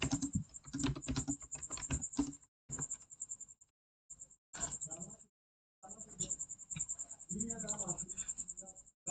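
Computer keys clack in short, irregular bursts separated by brief pauses, close up, with a faint high steady tone in the background and a person speaking at times.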